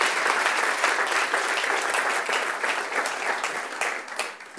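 Church congregation applauding, a dense, steady wash of many hands clapping that carries on throughout and tapers slightly near the end.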